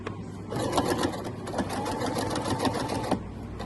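Sewing machine stitching down an apron pocket, a steady close rapid mechanical whirring with a fast clicking needle rhythm running throughout, with no pauses.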